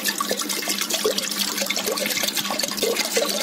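Water pours steadily into a mixer jar holding softened raw mango paste for a summer cooling drink, a continuous close splashing and gurgling stream with no talking.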